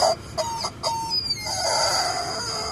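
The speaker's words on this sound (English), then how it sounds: "It's chicken!" A chicken clucks loudly up close in quick, squawking bursts that rise into a harsh, drawn-out cackle, with no talk over it.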